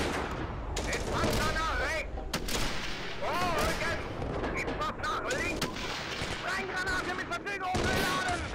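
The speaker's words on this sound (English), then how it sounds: "Oh, there goes a PPSH" PPSh submachine gun fire in the Steel Fury Kharkov 1942 tank game, with steady battle noise of gunfire and distant booms running throughout while someone talks over it.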